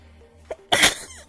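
A soft intake of breath leads into one loud, close sneeze that ends in a short, breathy tail.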